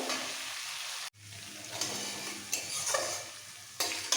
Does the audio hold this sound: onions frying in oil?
yes